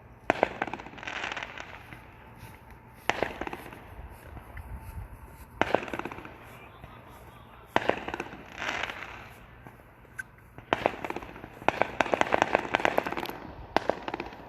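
Neighborhood fireworks burst in repeated loud explosions with crackling tails and scattered pops, coming from nearby and farther off across several seconds, heard without talk.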